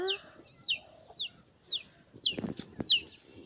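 A chick clucks and peeps in short, high chirps, about six in a loose rhythm, close by with some faint rustling between calls.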